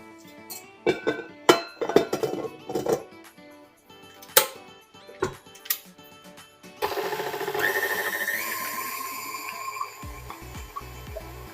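A stand mixer whipping egg yolks on low speed for a tiramisu: sharp clinks and taps at first, then a steady whirring motor drone that runs on to the end, close and alone.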